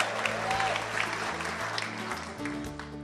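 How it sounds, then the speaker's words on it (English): A radio show studio audience claps steadily for a few seconds, a moderate burst of applause with a musical tone running underneath. "Give yourself a big applause."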